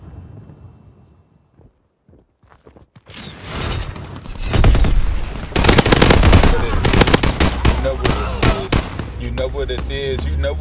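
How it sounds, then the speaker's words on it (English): A fighter plane strafes a target with sustained machine-gun fire, loud and dense, bursting in after about three seconds of quieter sound and carrying on as a continuous rattling roar. "Fighter pilot inbound, strafing the target."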